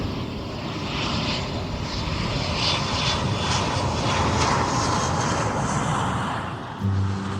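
A passenger airplane's engines roar steadily during landing, heard from inside the cabin as a loud, constant broadband rumble that continues unbroken until a brief thump near the end.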